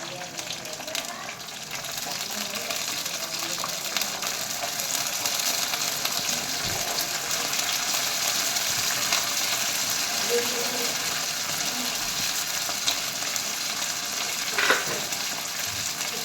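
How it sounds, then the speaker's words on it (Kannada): Green chillies and peas fry in a pan with a continuous, close sizzle. Occasional stirring clinks and scrapes break through the steady crackle. "ಇವಾಗ ಹಸಿಮೆಣಸಿನ್ಕಾಯಿ, ಬಟಾಣಿ ಹಾಕ್ತಾಯಿದ್ದೀನಿ."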